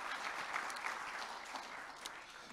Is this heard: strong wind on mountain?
no